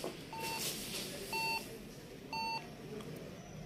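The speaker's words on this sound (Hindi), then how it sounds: "सुन रहे हैं बीप, ये बीप की आवाज़ जो है ना कर रहा है।" An HP 800G1 ProDesk computer sounds short, sharp electronic error beeps at power-on, three clear tones with gaps between them over a steady fan hum, no talking.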